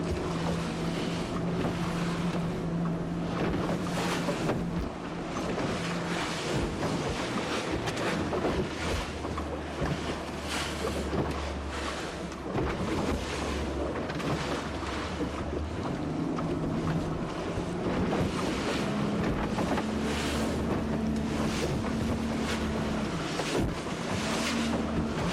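Wind and waves around a fishing boat caught in a storm at sea off Alaska, a loud, constant roar of wind and water with a low engine drone underneath and no talk.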